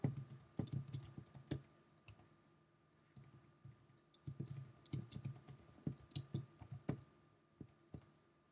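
Keys clack on a Mac computer keyboard in short irregular bursts of quick taps, separated by brief pauses, close and fairly quiet as an address is entered.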